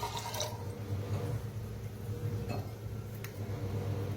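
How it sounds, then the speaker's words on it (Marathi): Water is poured into a kadhai on a gas stove to make sugar syrup for gulab jamun, with a soft continuous trickle and a few splashy drips. "पाणी ओतूया आणि थोडंसं पाणी ओतते, अर्धा ग्लास"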